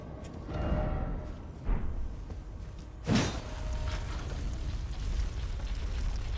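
In the Elden Ring video game, a Virgin Abductor enemy machine gives off two heavy, booming mechanical thuds with a grinding rumble, set against a constant low ambient drone, with no talk.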